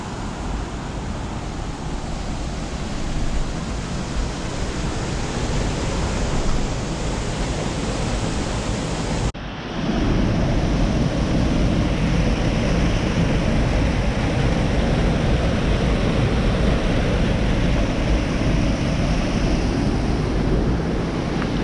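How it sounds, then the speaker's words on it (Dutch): Water rushing over a small weir on the Dinkel river, a steady broadband roar that carries on without a break and swells slightly louder partway through, heard close and alone. "Dat was een soort stuw van het riviertje de Dinkel."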